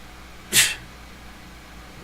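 A single sharp human sneeze bursts out at close range, brief and loud against a quiet game background, with nothing else prominent before or after.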